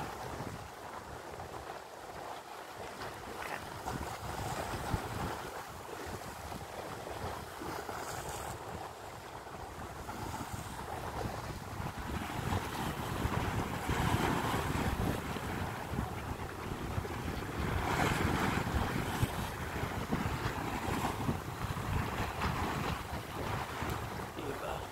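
Strong wind roars steadily across the microphone over open water, with a low rumble of waves and a boat underneath, continuous and loud.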